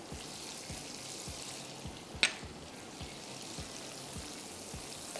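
Garlic fries in a pan for beef stroganoff, giving a steady low sizzle with regular soft taps and one sharp clink partway through, with no talking.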